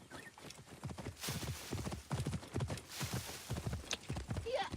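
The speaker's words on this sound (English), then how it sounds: "Where's my horse?" Horse hooves clip-clop steadily in Assassin's Creed Origins, a close rhythmic gallop with occasional brief neighs, with no talk over it.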